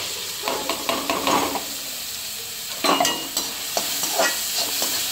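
Onion and green chillies frying in two or three spoons of refined oil in a hot kadhai, loud close sizzling broken by bursts of scraping stirs, with no talk.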